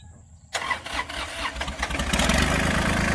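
A farm crop-sprayer vehicle's engine cranks and starts after a brief quiet moment, then settles into a loud, rough, rattling run like a farm tractor.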